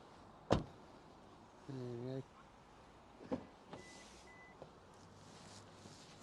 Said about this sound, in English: Front electric windows